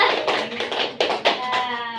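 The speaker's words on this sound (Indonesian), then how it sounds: "Tepuk tangan buat Ipa" Children in a storytelling class clap their hands for a classmate named Ipa, a brief run of scattered, uneven claps at close range, with a voice rising briefly near the end.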